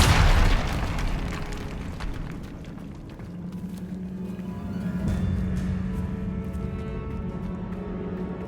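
Bombarda spell explosion in the Hogwarts Legacy video game, a single loud booming blast at the start that rolls off into a long rumbling decay with a low steady hum.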